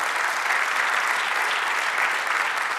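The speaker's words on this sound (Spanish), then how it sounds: "Dale un aplauso al Señor." Church congregation applauding together during a sermon, a steady, dense wash of clapping from many hands that holds evenly at full strength throughout, with no voices over it.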